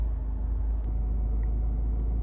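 A Honda CR-V 1.6 i-DTEC diesel idles with a steady low rumble heard from inside the car, joined by a couple of brief clicks.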